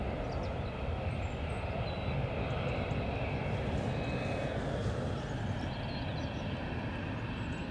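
A KLM airliner at Edinburgh Airport gives a steady, broad engine roar that holds at an even level throughout, fairly distant and unbroken, with no talk over it.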